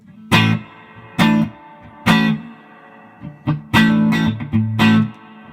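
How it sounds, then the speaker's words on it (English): Fender Stratocaster guitar through a Fender Princeton amplifier's tube reverb: several distinct strummed chords and short phrases, each ringing out with a reverberant tail, loud and close with no talking. "Here's the tube reverb from the amp."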